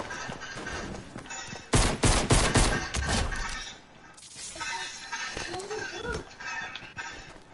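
Rapid bursts of video game gunfire, loud close cracks clustered in a dense volley, then quieter scattered shots and thuds, with a voice talking over parts of it.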